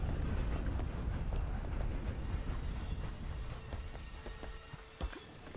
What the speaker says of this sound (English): Can you slow down the train?